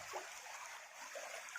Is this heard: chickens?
no